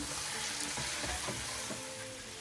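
Chicken sizzles steadily in a hot pan while a utensil stirs it with a few soft scraping strokes, close up and fairly quiet.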